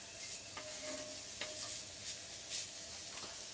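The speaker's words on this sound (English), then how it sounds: "Mix that up good." A food mixture being stirred in a pan for Cajun cod and rice, heard as faint, quiet sizzling with a few soft spoon scrapes and taps at irregular intervals.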